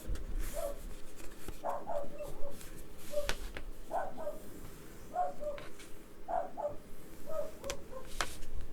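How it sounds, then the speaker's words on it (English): A dog barks in a steady run of short, muffled yaps at a distance, repeating about once a second over a continuous indoor hiss. "That's my crazy dog."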